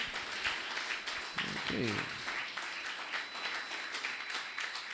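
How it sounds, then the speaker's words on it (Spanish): A church congregation applauds as a hand clap for Jesus, a dense run of clapping throughout, with a voice speaking briefly over it. "Dale a Jesús un aplauso."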